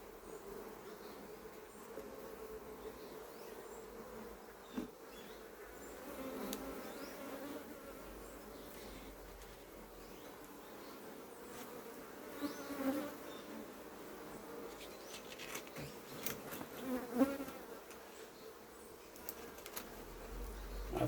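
Steady, dense buzzing of many honey bees close by around a hive, a continuous drone with occasional louder passes of individual bees near the listener.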